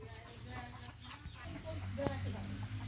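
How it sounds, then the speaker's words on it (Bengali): Pakistani racing pigeons with proven results, kept for sale in Jashore, coo and murmur in low, soft repeated calls against a busy background hum. "অসাধারণ কবুতর, রেজাল্টেড কবুতর"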